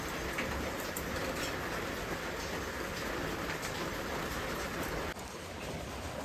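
Heavy rain pours down in a steady, dense wash of noise that holds nearly unchanged throughout, dropping slightly in level near the end.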